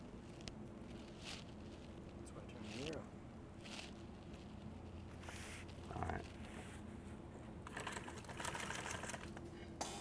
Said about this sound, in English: I'm sewing it to the top.